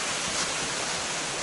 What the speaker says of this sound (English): I thought that was just a little waterfall, but it goes way up there. It just keeps falling.